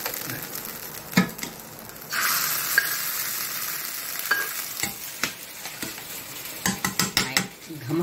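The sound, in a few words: ghee tempering sizzling with coriander leaves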